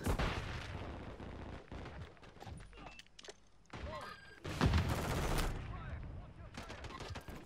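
Renetti pistol gunfire in Call of Duty MW3: loud, rapid bursts of shots close by, mixed with other battle noise and thuds, in uneven clusters with short pauses, while someone talks over it.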